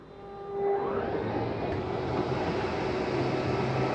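A slide-out motor on a 2025 Flagstaff Microlite 21FBRS travel trailer extends the room, a steady mechanical whir and hum that starts under half a second in and runs evenly, close up, with no talk.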